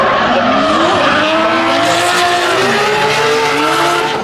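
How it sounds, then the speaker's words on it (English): Race cars drift at a time attack event, engines roaring loud and close with overlapping revving pitches and sustained tire squeal and skidding throughout, no voices. "let's cut to some drifting straight away"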